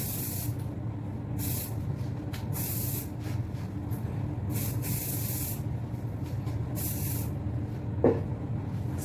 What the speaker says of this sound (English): So I will take my spray